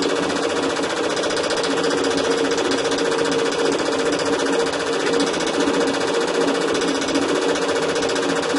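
A fast, steady mechanical chatter from an InTouch ProSpangle spangle embroidery machine running continuously at 800 to 1,000 spangles per minute, loud and close with a rapid repetitive rattle and no talking.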